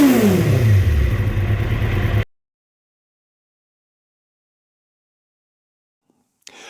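A 1973 Honda CL350 motorcycle engine running close by for about two seconds, its note falling as the revs drop. The sound then cuts out to silence, followed by a faint click at the end.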